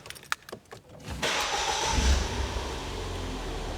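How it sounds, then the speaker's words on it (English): A car with a Viper 106v immobiliser just disarmed cranks with a few quick rhythmic turns, then catches and settles into a steady, close, rumbling idle. "While it's doing that, you can start the vehicle up."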